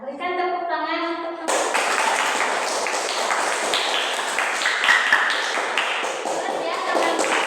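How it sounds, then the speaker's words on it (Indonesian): A classroom of children bursts into clapping after a brief voiced stretch, the applause steady, close and dense for several seconds, with young voices mixed in. "berikan tepuk tangan untuk"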